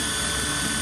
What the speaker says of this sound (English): so we're gonna try the drill motor